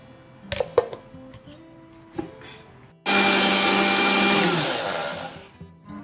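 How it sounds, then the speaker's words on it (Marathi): After a few clicks and knocks, a mixer grinder blending chopped chibud fruit whirs loudly for about two and a half seconds, then winds down. "आपण हे मिक्सरला बारीक करून घेणार।"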